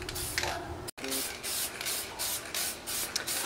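Aerosol paint hissing in repeated bursts onto a supercharged 3800 L67 V6 engine during a rebuild, close and steady with short pauses between passes and a brief break near the start.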